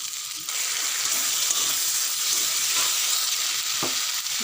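Ground melon seed paste going into a sizzling pan of oil and spices for a vegetarian fish-style curry, a loud continuous frying hiss that jumps up as it lands and stays steady, with light stirring and no speech.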